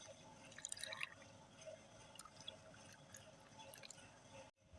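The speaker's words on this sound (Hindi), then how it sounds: "अब इनमें वाटर ऐड कर लेंगे।" Water poured into glasses of drink mix sweetened with mishri powder and brown sugar, a soft trickling and dripping with light liquid splashes, faint and close, ending in a brief louder knock.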